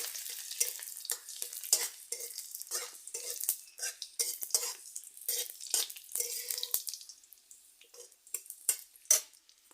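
Chopped garlic goes into a pan for a fresh turmeric curry. A fast, irregular run of spatula scrapes and clacks against the metal rides over a light sizzle, close and fairly quiet, with short pauses between bursts.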